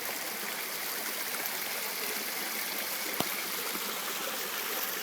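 Water in a remodeled garden water feature in Kihei, Hawaii, with a sheet fall above, a lower fall and a stream, rushing and splashing steadily as a continuous close wash with no talking.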